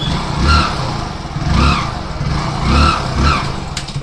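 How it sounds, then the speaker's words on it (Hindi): A Hero Splendor Plus BS6 motorcycle engine runs with a repeating whining, cooing noise from the primary gear as the clutch is released, swelling and fading roughly once a second, loud and close. "जैसे ही हम बाइक का क्लच छोड़े तो इसके अंदर से कू कू इस टाइप की आवाज़ आ रही है"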